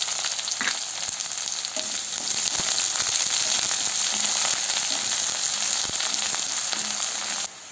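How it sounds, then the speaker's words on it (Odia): Onions and mustard seeds fry in a hot pan, a dense, steady sizzle with scattered sharp pops and a few spatula clicks, close and with no talking. "ଏବେ ମୁଁ ଏଥିରେ ପିଆଜ ପକାଇ ଦେଉଛି।"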